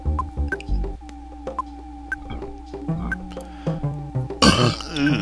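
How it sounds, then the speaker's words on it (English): A single burp after eating a banana, set among game sound effects and a brief chime while the player moves through Earthbound's pyramid dungeon, ending in a louder burst of noise. "That burp kinda tastes like bananas."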